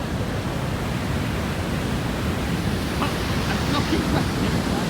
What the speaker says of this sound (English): Here we are in the Luna Island view of American Falls.